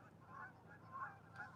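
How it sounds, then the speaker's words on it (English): Geese honk several times in quick, overlapping calls as a flock takes off on the open rural Colorado plains, moderately distant and faint over wind noise. "These geese are all taken off."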